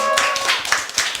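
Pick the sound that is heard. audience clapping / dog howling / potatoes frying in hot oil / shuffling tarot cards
audience clapping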